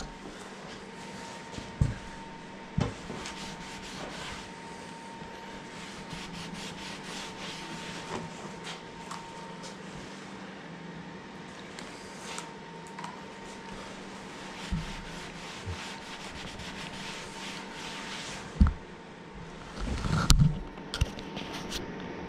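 Sanding a reclaimed chestnut and epoxy tabletop: quiet, steady rubbing strokes with a few louder knocks and bumps near the end, close by and without talk.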